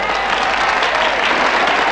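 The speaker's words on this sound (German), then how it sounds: "Applaus für" Crowd in a boxing arena applauding before a championship bout, a dense, steady wash of clapping and cheering that fills the whole stretch without letting up.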